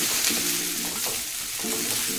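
Cauliflower masala ingredients roast in a pan over a high flame, giving a steady close sizzle with the scrape of stirring running throughout.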